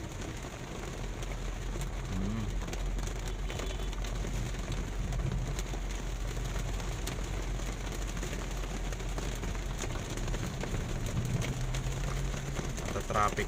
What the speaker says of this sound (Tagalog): Grabe, buhos na buhos yung ulan.